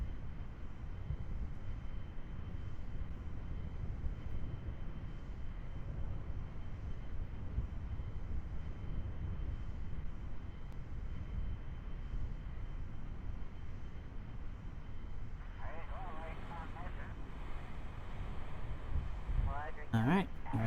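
A plane's engine drones steadily and loudly in Kerbal Space Program as the craft descends toward splashdown, with a brief clatter near the end.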